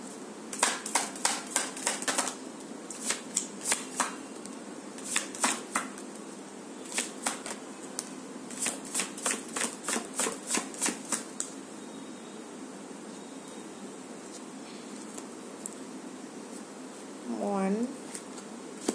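A deck of tarot cards is shuffled in quick riffling bursts of crisp, close papery clicks, with short pauses between rounds and a brief quieter rustle near the end.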